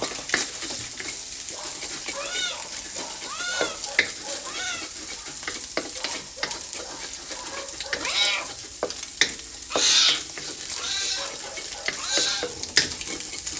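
Garlic sizzling and frying in a pan while being stirred for a bok choy dish, a steady close crackle with scraping stirs throughout and occasional brief voices.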